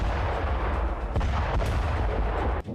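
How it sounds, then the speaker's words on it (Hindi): Missile strike explosions in Sanaa, Yemen, at night. Heavy, rumbling booms roll and overlap in a dense, continuous barrage, with sharper cracks near the end and no voices. "रात भर धमाके होते रहे। सना से विस्फोट की आवाजें आती रही।"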